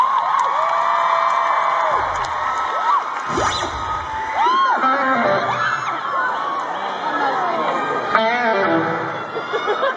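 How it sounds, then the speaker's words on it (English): A concert crowd in Bournemouth cheers, shouts and whoops for a guitarist, a loud, lively mass of voices with scattered high screams rising and falling throughout. "Everybody give Isaac a clap"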